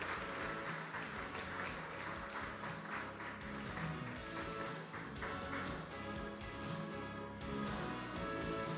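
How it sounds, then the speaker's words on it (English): Steady applause from a crowd at an awards summit in Mumbai, a dense even clatter of many hands clapping that carries on throughout, moderately distant. "keep the applause for going for the HDFC team"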